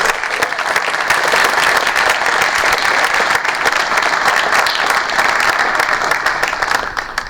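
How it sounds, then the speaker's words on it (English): A loud, close, continuous round of applause from a crowd honouring students at an idea-challenge award evening, dense clapping holding steady throughout with slight swells and a gentle easing at the end. "Can we give one more round of applause for all of our students?"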